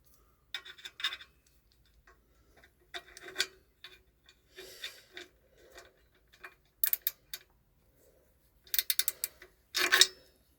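A socket wrench works on one of three clutch pressure plate bolts during clutch disc centring, giving scattered metallic ratchet clicks and scraping bursts in separate close clusters with quiet gaps between them.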